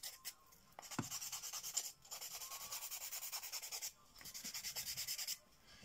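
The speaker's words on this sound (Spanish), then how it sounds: "Van a lijar todo bonito con calma." Hand-held sandpaper scrapes back and forth across a hard thermoformed sphere in even rhythmic strokes, close up, broken by a couple of short pauses.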